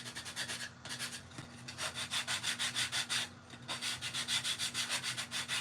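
Sandpaper rubbing back and forth along the painted edges of a sea turtle craft, close up in a steady run of quick repeated strokes with a brief pause near the start.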